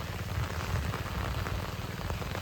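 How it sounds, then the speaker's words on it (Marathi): Heavy monsoon rain pours steadily over a village farm, a dense, even hiss of drops drumming on surfaces with no pause and no voices. "पाऊस काय थांबायचं नावच घेत नाही"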